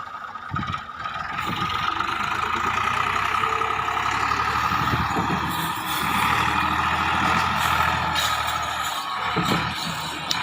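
A Millat 260 tractor hauls a 16 ft trolley loaded with soil up a slope in third gear. Its engine drones steadily and loudly throughout, with no talk.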